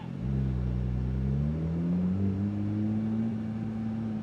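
A Porsche GT3 RS flat-six engine revs steadily, its tone climbing smoothly and holding high, close and fairly loud with no talking over it.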